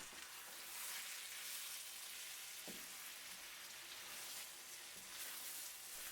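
Fish, squid, mussels, shrimp and chicken stirred together in a hot paella pan, giving a steady close sizzle with a few soft scraping knocks under the frying noise and no talk.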